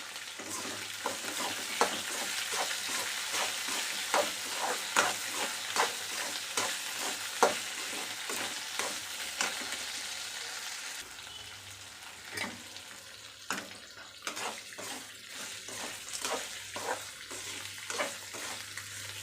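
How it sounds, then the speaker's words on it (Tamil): Okra fries in hot oil in a pan while being stirred, giving a continuous close sizzle broken by regular scraping stirs, with no talking. "எண்ணெயிலே நல்லா ரோஸ்ட் ஆகட்டும்"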